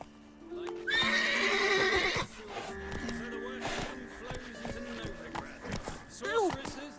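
In The Witcher 3, the horse Roach lets out a loud, shrill neigh, followed by galloping hoofbeats and snorts, with a short whinny near the end and game speech around it.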